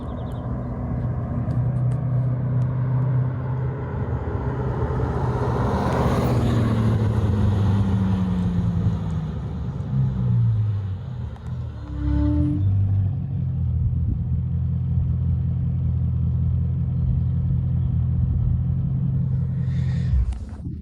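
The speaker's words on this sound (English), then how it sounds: "That sound from the 16 cylinders." Bugatti with an 8-litre, 16-cylinder, quad-turbo engine, a loud deep rumble close by that rises and falls in pitch as the car revs and shifts, holding a steady drone near the end.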